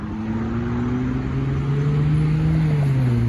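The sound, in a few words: Ferrari 296 GTS sports car driving past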